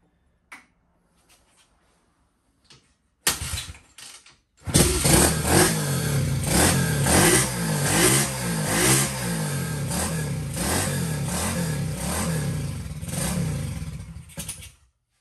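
A Honda SL70 motorcycle fitted with a Lifan 125 engine, heard on its first run, catches after a few faint clicks and then runs loud and close, revving up and down repeatedly for about ten seconds before cutting off.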